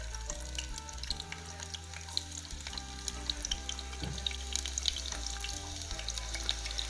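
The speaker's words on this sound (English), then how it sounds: "our oil is hot, so I'm going to add in our onions" Onions frying in hot vegetable oil in a saucepan, a dense crackling sizzle with fine popping spatters and a low hum beneath, steady and close.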